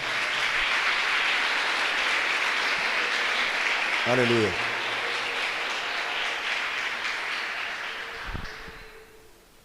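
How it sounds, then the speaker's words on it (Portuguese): A church congregation at a Christmas service claps steadily in a broad, loud wash of applause that gradually fades toward the end, while a voice calls out over it. "Dá uma salva de palmas para Jesus."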